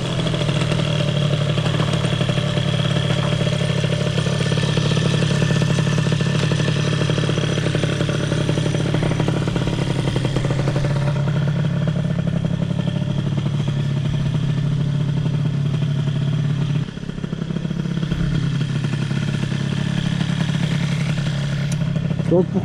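A Peugeot 103 moped engine runs with a buzzing, uneven two-stroke idle and a few revs, loud and close. People talk over it.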